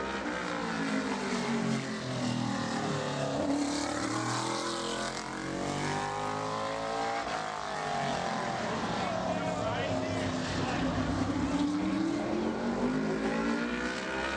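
Brandon Butner's number 35 modified race car on a qualifying lap at Bowman Gray Stadium, its engine droning and rising and falling in pitch as it circles the track, with a continuous loud roar throughout.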